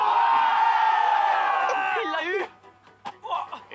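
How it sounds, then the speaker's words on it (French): An alarm sound of a man screaming, a loud sustained strained yell that wavers and breaks off, followed by quieter scattered voices talking. "j'ai mis un homme qui crie pendant 10 heures"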